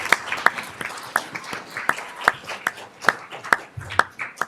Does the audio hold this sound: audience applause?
yes